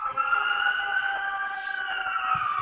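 A police car or ambulance siren wails steadily for a few seconds, loud and fairly close, with a sustained sweeping tone and no talking.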